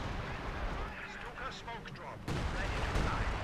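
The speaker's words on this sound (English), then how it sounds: "All artillery guns open fire." Artillery guns fire in the video game Company of Heroes 2, with dense rumbling booms and blasts layered together and a sharp, louder burst midway that stays heavy to the end.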